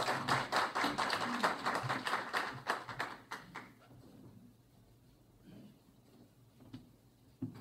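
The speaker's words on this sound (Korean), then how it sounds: "박수로 환영해 주시기 바랍니다." Crowd applause welcoming a speaker at a church pastors' forum, dense clapping for about three and a half seconds that then thins to a few scattered claps and quiet room noise.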